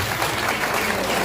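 Dense, loud, steady clapping from an audience at a public political meeting held by an AAP MLA in Punjab fills the entire short stretch, with no break.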